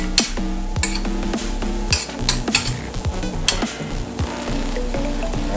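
Ackee patty filling being stirred in a non-stick pan: a steady close sizzle broken by repeated scraping strokes and light clinks of a utensil against the pan.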